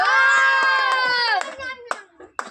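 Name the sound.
hand clapping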